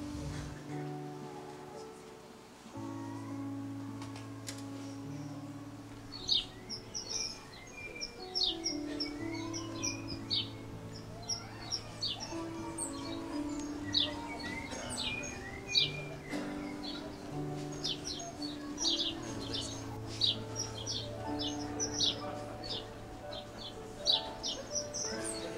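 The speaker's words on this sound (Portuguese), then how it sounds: "fica observando um pequeno pássaro" A small bird chirps and sings in short bright bursts, repeated throughout at moderate distance over a sustained tonal background hum.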